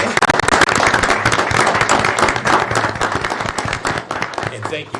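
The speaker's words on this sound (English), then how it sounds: "Let's give Lisa a round of applause" Round of applause at a council meeting, loud close clapping with sharp individual claps from a modest group, sustained throughout and easing toward the end, with some voices mixed in.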